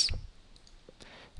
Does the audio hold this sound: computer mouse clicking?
yes